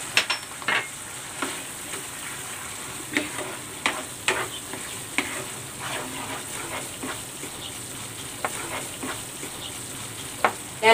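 Coconut milk gently sizzles and bubbles in a pan as green chilies and labuyo peppers are added for tambakol Bicol express, with scattered clinks and stirring taps over the steady frying hiss.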